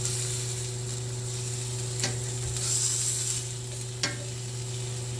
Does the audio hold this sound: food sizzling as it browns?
yes